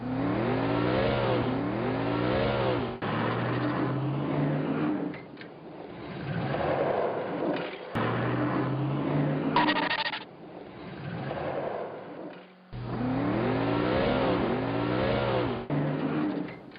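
A car accelerates in repeated bursts, its engine note rising in pitch with each gear, separated by brief pauses and shifts, loud and close throughout.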